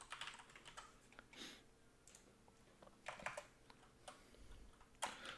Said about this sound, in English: That's why we get these mechanical keyboards.